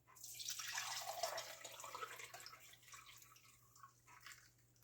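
Melted homemade ghee pours from a pan into warmed jars, a soft continuous liquid trickle that swells early and then thins out to faint dribbles, quiet and close with no talk.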